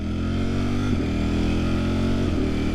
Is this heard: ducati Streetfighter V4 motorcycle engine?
yes